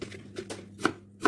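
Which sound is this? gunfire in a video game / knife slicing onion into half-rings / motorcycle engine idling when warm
knife slicing onion into half-rings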